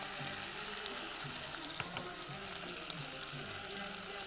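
Peppers fry in hot oil in a pot for a Tunisian bean stew. A dense, steady sizzle and bubbling crackle runs continuously at close range, with a few small pops and clinks, and no voices on top.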